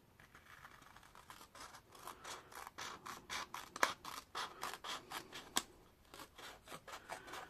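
Scissors snip and slide through paper while a pop-up card with a rotating cascade page for a Rapunzel scrapbook album is made, in quiet, rapid, rhythmic cutting strokes with a couple of sharper clicks.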